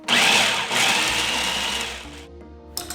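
Blender pulsing a quinoa mixture with cinnamon and cardamom, a loud close motor whir running for about two seconds, then winding down into a lower hum before a brief final pulse.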